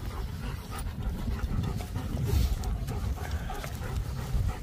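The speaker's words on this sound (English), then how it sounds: "Puffing and barking, Nico pups." Close, rhythmic panting from a German Shepherd pup, steady breaths that carry on for several seconds with no clear barks.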